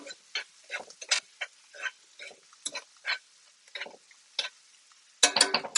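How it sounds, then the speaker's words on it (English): Salt-and-peppered mushrooms stirred around a pan with a utensil, close, irregular scraping and clattering bursts separated by short gaps, with a louder flurry of stirring at the end. "Mushrooms get some salt and pepper. And we're going to mix it all around."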